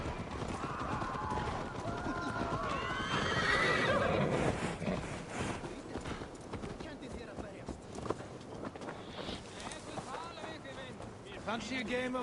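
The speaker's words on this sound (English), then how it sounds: "If you're gonna make me travel by horse, give me my horse." In Assassin's Creed Valhalla, a horse neighs and whinnies amid clip-clopping hooves and game ambience, with a voice talking over parts of the scene.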